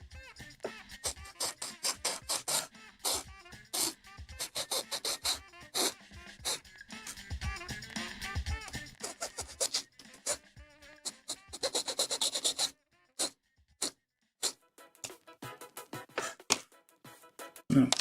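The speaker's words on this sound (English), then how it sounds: "I'm filing those." Plastic parts from a 1/144 HG Bandai Gundam model kit are filed in short, irregular bursts of close scraping strokes with pauses between them.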